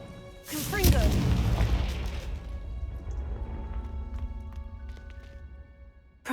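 A Confringo spell from the Hogwarts Legacy video game goes off in one sudden, heavy boom, followed by a rumbling tail that slowly dies down.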